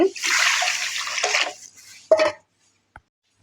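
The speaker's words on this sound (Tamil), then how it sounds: "அந்த கடாயிலே நம்ம தண்ணி வைக்கிறேன் ஒரு கப் ஊற்றிருக்கேன்" Water pours steadily into a pan for about two seconds, a cupful for wheat rava kesari, then a short splash and a faint clink before it goes quiet.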